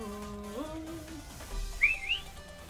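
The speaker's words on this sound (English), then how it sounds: "I heard a whistle. Who whistled at me?" A short rising whistle sounds as a game effect in the Minecraft Pixelmon modpack, a brief bright two-part tone over faint background game audio.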